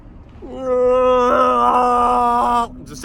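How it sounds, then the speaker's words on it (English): A bear cub cries out in the woods with one drawn-out, wavering wail that swells and fades over about two seconds, near and fairly loud. "It's the sound of a baby cub"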